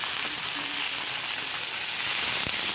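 Carrot, capsicum, peas and potato fry in a pan, producing a short, steady close-up sizzle with a light stirring knock near the end.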